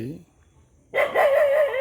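A stray dog in Alibag barks and yelps in a sustained, strained burst after a short quiet gap, fairly close and loud, following a brief faint sound at the start.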